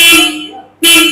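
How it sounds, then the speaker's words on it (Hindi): Loud Jawa 42 FJ motorcycle horn sounding two short, close blasts with a brief gap between them, a steady bright electric tone. "बहुत ज़्यादा लाउड हॉर्न है।"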